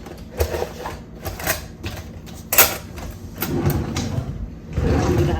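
Kitchen drawer sliding shut with spoons inside, a series of clattering knocks and a rumbling slide building to a louder close near the end.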